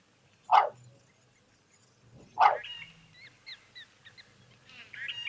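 A wild bird in flight gives two sharp, harsh calls like short dog barks, well spaced, followed by faint chirping and twittering in the background at a waterhole.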